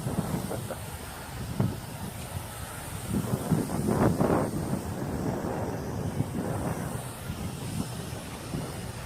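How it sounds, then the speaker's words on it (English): Steady wind roars and buffets the microphone during an outdoor flight of a Star Wars TIE Fighter model, with gusty low rumbling that swells in the middle and no voices. "Less shield from the wind out here."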